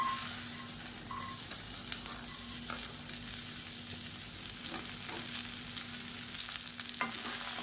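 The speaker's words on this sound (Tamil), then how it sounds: "இரநூறு கிராம் அளவுக்கு வெண்டைக்காய் கழுவிட்டு சின்ன சின்னதாக கட் பண்ணி வச்சுருக்கேன் இதை சேர்த்துக்கலாம்" Two hundred grams of chopped okra fries in hot oil in a pan, giving a steady low sizzle with occasional light stirring scrapes and clinks.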